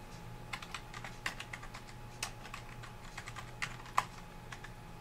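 A name is typed on a computer keyboard, producing a quick, irregular run of light key clicks spread over a few seconds, close and clear with no talking.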